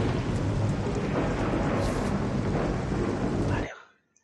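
Rolling thunder in the stealth game Thief, a loud, sustained rumble with heavy rain-like noise that continues steadily for several seconds before cutting off abruptly.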